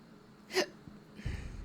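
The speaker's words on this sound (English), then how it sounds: "I hiccup." A single sharp, breathy hiccup from a character in Final Fantasy XIV, followed by soft rustling and low noise.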